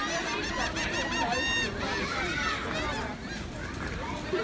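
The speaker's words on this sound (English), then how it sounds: "They're called Laughing Gulls." Laughing gulls call at an Ocean City, New Jersey beach, their repeated harsh, rising cries layered over steady beach noise and nearby chatter.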